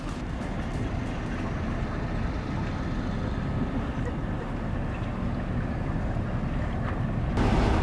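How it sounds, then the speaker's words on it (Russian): Motor launch crossing the Pechora river, heard from the stern as a steady, loud engine rumble and water rush mixed with wind buffeting the microphone, continuous throughout with no talk. "Нам разрешили посидеть на корме катера, будем переплывать речку Печора и поедем дальше."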